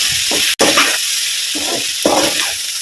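An ivy gourd stir-fry with turmeric and chili powder is stirred in a hot pan, giving several bursts of scraping and sizzling with a sharp click early on, close and loud, with no talking.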